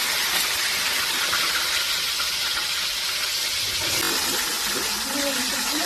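Tomatoes fry in a pan for a home-style Tamil fish curry, giving a steady, loud sizzling hiss with a faint background voice near the end.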